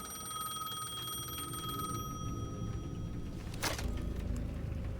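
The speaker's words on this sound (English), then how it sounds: "The payphone." A payphone rings in the video game Alan Wake 2 with a bright, metallic electronic tone that sounds for about two seconds and then cuts off, followed by a short burst of noise over a low rumbling ambience.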